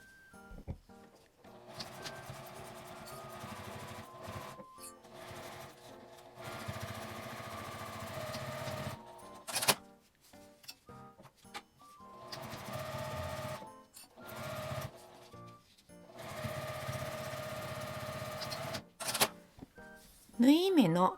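A sewing machine stitches the side seams of a small fabric-scrap box pouch with a 12 cm zipper, running in several steady bursts separated by brief pauses, close and fairly loud.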